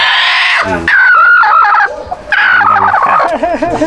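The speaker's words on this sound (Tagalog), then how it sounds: "Manok yan." Chickens on a rural farm in Isabela clucking and squawking loudly up close, a busy mix of fowl calls with rising and falling cries and no clear break.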